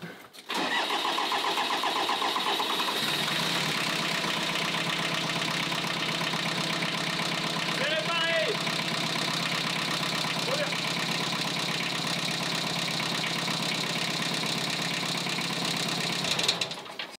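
A small tractor engine cranks and catches, then settles into a steady, loud idle with a dense mechanical drone that holds for over fifteen seconds before cutting off.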